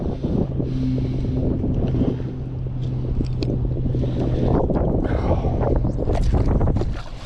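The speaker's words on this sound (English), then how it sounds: "The wind's picked up considerably." Strong wind over a bay during a fishing trip roars against the microphone in a steady, loud rumble, with a faint low motor-like hum beneath it and no voices.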